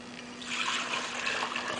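Water pours steadily into a stand mixer bowl holding salt, lemon juice and yeast for hot dog roll dough, a continuous soft splashing trickle that swells after the first half second.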